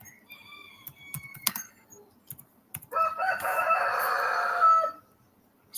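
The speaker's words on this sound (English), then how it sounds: "Got roosters and all that." A rooster crows once, a loud drawn-out call of about two seconds, preceded by scattered clicks and tapping nearby in an otherwise quiet outdoor setting.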